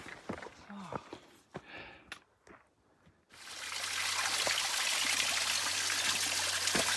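A mountain spring trickles and splashes steadily close by on a hiking trail descending from Mount Garfield toward Galehead Hut on Franconia Ridge, rising to a continuous rush after a few quieter seconds with faint knocks and movement.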